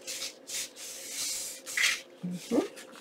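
Paper being folded down and creased for a junk journal, a series of soft rubbing swishes and brief papery scrapes in short bursts, fairly close.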